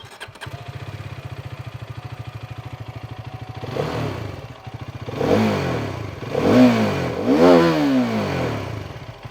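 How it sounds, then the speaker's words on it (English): A Hero Karizma XMR single-cylinder motorcycle engine idles with a steady, even thump, then is revved in three rising blips that climb to a raspy, louder pitch before dropping back, heard close with no talking. "this is still a pretty conventional sounding single cylinder engine"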